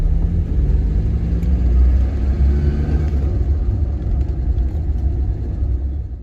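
A 1999 Maruti Zen with freshly replaced rear shock absorbers drives along a road, its steady low engine rumble and road noise continuous and close throughout, with no talk.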